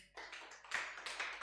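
Congregation clapping at a Korean church Sunday service in Ho Chi Minh City after children are introduced, a brief, dense burst of hand claps that swells midway, moderately close and alone.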